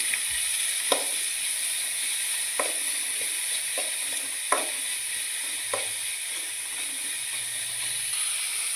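Chopped onion sizzles steadily in a pan for a square bean thoran, with a spoon stirring and knocking against the pan every second or so over the constant hiss.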